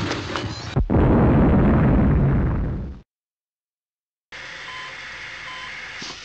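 Bomb explosion in the 1995 video game Super Spy, a sharp bang followed by a loud, sustained roaring blast that fades out into silence before game audio resumes.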